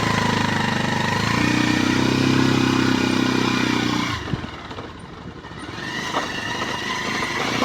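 A motorcycle engine runs close by, a steady buzzing idle that cuts off partway through, leaving rough low rumble and outdoor noise behind.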